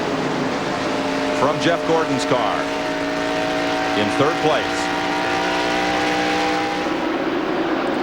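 NASCAR stock cars at Dover in 1993 roar up through the gears at the green-flag start, a dense continuous engine drone with rising shifts, heard under a commentator's steady talk.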